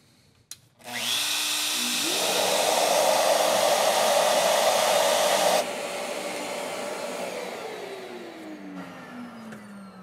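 A Shaper Origin handheld router fitted with a 0.02 bit cutting acrylic: the motor spins up with a rising whine into a loud, steady high-pitched roar, drops slightly partway through, then winds down gradually.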